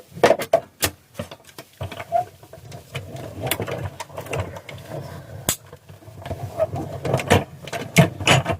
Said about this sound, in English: we're going to whiz that through the die cut machine